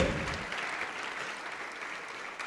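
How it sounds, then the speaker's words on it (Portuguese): A church congregation applauds in a hall, a fairly quiet but steady stretch of many hands clapping that continues evenly without pause. "Vamos aplaudir mais, igreja."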